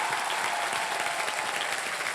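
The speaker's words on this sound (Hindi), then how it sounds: "सो एक बार अजय जी के लिए जोरदार तालियां" Studio audience on the Wheel of Fortune game show claps loudly and continuously, a dense, even wash of applause close up with no talking over it.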